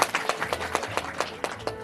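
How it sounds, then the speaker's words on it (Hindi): An audience at a Shrimad Bhagwat Katha religious gathering in a village claps in a steady rhythmic beat, regular sharp claps over a diffuse crowd background. "बजा लो ताली"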